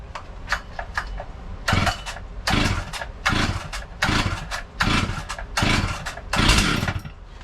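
Rebuilt Stihl 044 chainsaw being pull-started: repeated sharp bursts of engine noise with brief gaps between them, as if it is catching and sputtering, loud and close throughout.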